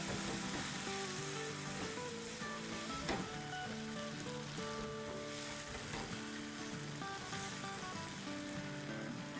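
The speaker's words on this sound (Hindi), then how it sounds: "और अब इनको भूनते, तो बस 2 मिनट तक मसालों के साथ भूनेंगे।" Ground meat keema sautéing with spices and chopped chillies in hot oil, a dense continuous sizzle and crackle, close and steady throughout with light stirring scrapes and no talking.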